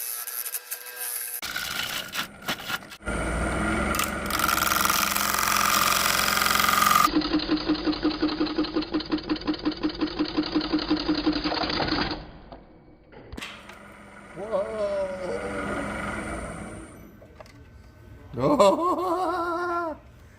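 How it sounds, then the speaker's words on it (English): Ironwood live edge bowl being hollowed on a wood lathe, a loud steady scraping and cutting drone with a rhythmic chatter that stops, followed by quieter intermittent tool contact and brief talk. "I'm gonna turn it around and hollow it out."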